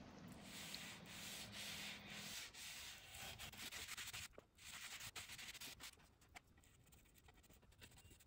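Damp sponge rubbing finish onto a carved Eastlake wooden dresser, a close, soft, continuous scrubbing and swishing with short pauses, with no one talking.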